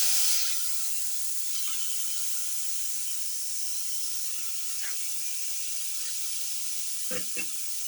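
Pieces of beef sizzle and hiss steadily as they drop into a hot pot for a garlic tomato beef casserole, with a few soft clinks and light knocks.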